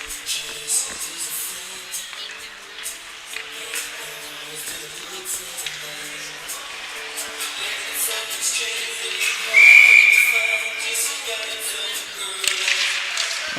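A referee's whistle blows once, sharp and clear, partway through an under-16 AAA ice hockey game, rising over rink crowd noise and murmuring voices.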